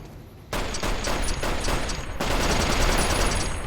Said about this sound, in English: You've nothing to fear, though, when you have a Russian scoped LMG assault rifle on hand.